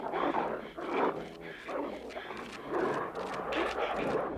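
Dogs bark and yelp repeatedly in a scene from the 1982 film Conan the Barbarian, loud and agitated, with a voice talking over them.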